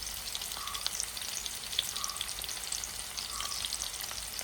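Masala-coated fish fries in a pan over a medium flame, Mangalorean hotel style, with a steady close sizzle and faint crackles throughout.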